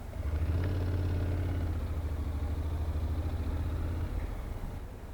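A Honda NC750X motorcycle engine pulls away in first gear, a steady low rumble that builds slightly and then eases off, heard close and alone with no talking.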